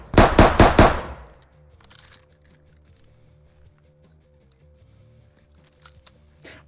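A rapid burst of NIArms machine gun fire indoors in a video game, several loud closely spaced shots followed by a ringing decay and faint mechanical clicks and clinks.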